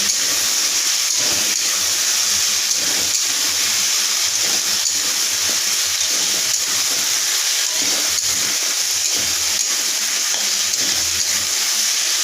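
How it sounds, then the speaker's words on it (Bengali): Onion paste frying with taro in a pan gives a loud, continuous sizzle and hiss, with faint stirring scrapes and no voices. "পেঁয়াজ বাটাটা দিয়ে কচুর সঙ্গে একটু ভাজা ভাজা করে নেব"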